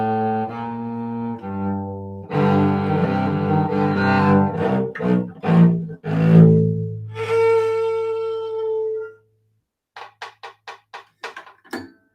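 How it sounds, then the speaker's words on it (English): Sustained bowed low strings of a baroque viola da gamba with a rich, reedy tone, playing a slow phrase, then a few short separate strokes at the end. "you can play viola da gamba or baroque cello with a bow, and it sounds like this."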